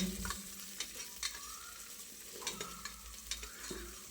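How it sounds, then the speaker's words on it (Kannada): A single sliced onion sautés in hot oil as the tempering for a fresh pigeon pea sambar. There is a soft, steady sizzle with repeated scraping and stirring clatters of a spoon against the pan. "ಒಂದೇ ಒಂದು ಈರುಳ್ಳಿನ ಈ ಥರ ಕಟ್ ಮಾಡಿ ಸೇರಿಸ್ಕೋತಾ ಇದ್ದೀನಿ ಒಗ್ಗರಣೆಗೆ ಸೊ ಒಂದೆರಡು ನಿಮಿಷ ಬಾಡಿಸ್ಕೊಳ್ಳೋಣ"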